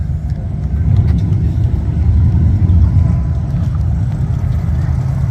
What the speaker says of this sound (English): Next stock car driver Andy King there.